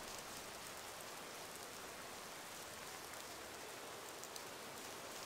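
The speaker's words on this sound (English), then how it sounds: "Sadly, it's raining like crazy and we barely see stuff." Steady heavy rain hisses evenly throughout in the video game Gothic 2, a dense downpour with no voices or other sounds.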